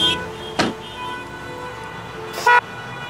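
Car horns honking in a stalled city traffic jam: two short toots, one early and one near the end, over a quiet idling-traffic background.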